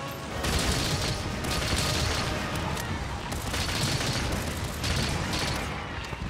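Sticky ammo rounds in the game Monster Hunter Rise detonate against a Tigrex during a solo light bowgun hunt, giving a dense, continuous crackle of repeated explosive bursts with a few stronger pulses, loud throughout.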